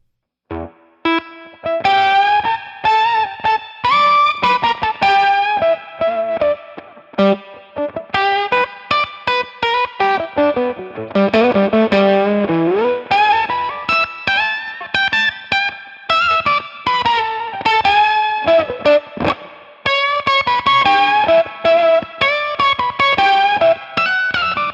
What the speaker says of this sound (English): what you're going to hear is a more pronounced clean octave sound with it